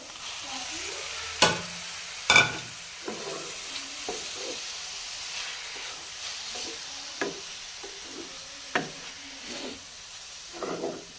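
Chicken and onion frying in a pan for lasagna, a steady soft sizzle with scattered stirring scrapes and clinks throughout, no talking.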